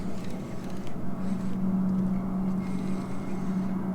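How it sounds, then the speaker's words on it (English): A low, steady engine drone hums continuously from a motorboat running close by across the water at night, with no lights on. "There's a boat running around here with no lights on. I can hear him."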